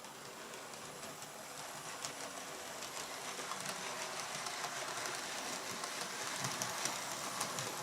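A Hornby model train, the Javelin, runs along its track with a steady, faint mechanical whirr and light rhythmic clicking of wheels, slowly growing louder as it approaches, with no voices.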